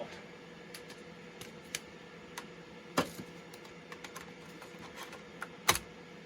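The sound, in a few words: typing on Compaq Contura laptop keyboard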